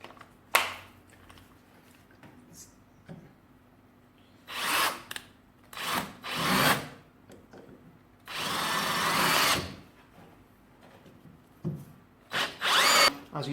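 A Parkside PKGA 20-LI A1 cordless drill driving screws into wood, with several short loud whirring bursts separated by quiet pauses and one longer sustained run in the middle.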